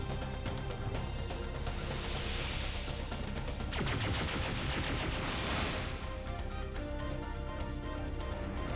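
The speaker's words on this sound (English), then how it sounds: "And we'll start shooting." Dense, continuous video-game gunfire and explosive crashes play loud throughout, layered under game music and effects with sweeping bursts; no one talks over it.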